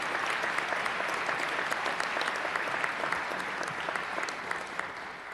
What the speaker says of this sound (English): Let's applaud the family and all those who helped them to this day.